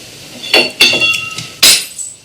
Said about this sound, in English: the sound I heard that crashed in the Ghost Theory video could very easily have sounded like glass bowls